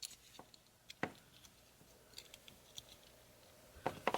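Plastic Hasbro Transformers War for Cybertron Kingdom Scorponok toy arms folding inward, heard as a few sharp close clicks and ratchety snaps spaced apart, with faint handling rustle between them.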